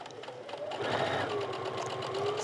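A sewing machine stitches a 5/8 inch seam around the neckline of a polyester tunic, a continuous close mechanical whir that runs steadily throughout.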